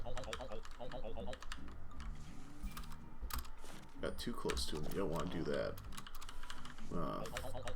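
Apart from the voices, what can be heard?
pressing the Q key on a computer keyboard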